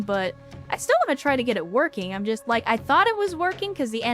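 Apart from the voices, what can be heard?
No everyday noises stand out.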